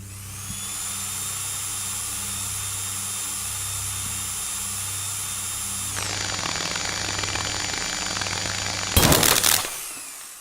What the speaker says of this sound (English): and turning on the drill.